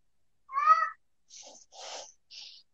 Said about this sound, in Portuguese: É um gato miando aqui.